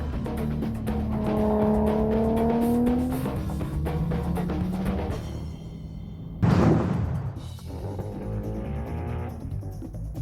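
A Mitsubishi car on a hot lap at a street car challenge, its engine revving up and down through gears with a loud, sudden roaring burst near the end.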